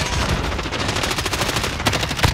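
Video game gunfire rattles in loud, rapid automatic bursts, nearly continuous and dense, with no talking.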